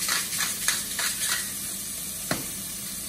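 Onion fries in rendered chistorra sausage fat in a pan, a steady close sizzle and crackle with a few soft stirring scrapes and occasional sharper pops.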